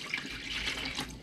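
Water pouring steadily into a container while making hopia dough, two cups of water going in, a continuous close splashing stream with no talk.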